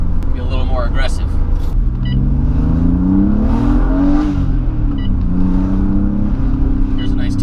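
Car accelerating hard while the driver tries to break the tires loose, engine revving with a rising and falling tone under steady road rumble, with people talking over it throughout.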